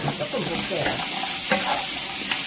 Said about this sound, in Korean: 여기다가 천일염을 조금 볶아요